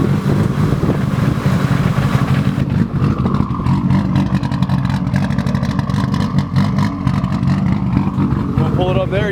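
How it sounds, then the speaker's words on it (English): A Toyota Cressida fitted with a 2J engine runs loud and close, a dense, steady engine roar with raspy revving throughout and no clear pauses. "It's got a 2J in it if you can't tell."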